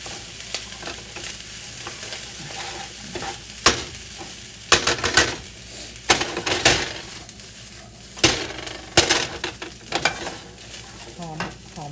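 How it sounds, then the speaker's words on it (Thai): Crab fried rice is stir-fried in a pan over a steady sizzle, with a spatula scraping and clanking against the metal in irregular, sharp bursts, close and fairly loud. "ผัดของต้องใส่ไฟแห้งนิดนึงนะ"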